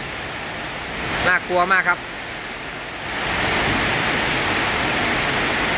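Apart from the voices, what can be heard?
wind and heavy rain storm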